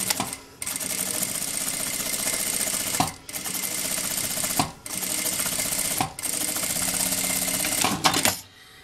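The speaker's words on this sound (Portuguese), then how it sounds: "eu vou passar uma costura com retrocesso no início e no final, só na parte arredondada" A sewing machine stitches the rounded flap of a bag, backstitching at the start and end. It runs in four steady bursts of rapid mechanical chatter, separated by brief pauses, close and loud.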